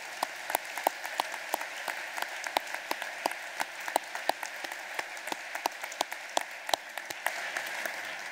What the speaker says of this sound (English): Let's give our deans a round of applause.